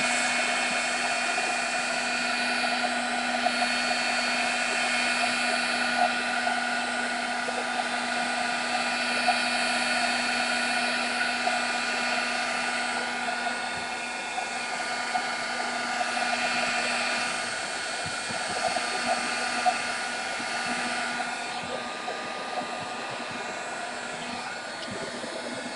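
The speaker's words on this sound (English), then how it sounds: "Again, sorry for the heat gun. I know that is an awful noise." A handheld heat gun drying a butterfly craft canvas blows with a steady, loud, droning whine throughout, a dense unbroken roar with high-pitched tonal hum and no speech.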